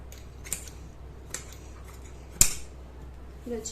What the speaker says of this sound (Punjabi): ਲੋ ਜੀ ਹੁਣ ਆਪਾਂ ਪਾਸਾ ਕਟਿੰਗ ਕਰ ਦਿੰਨੇ ਆ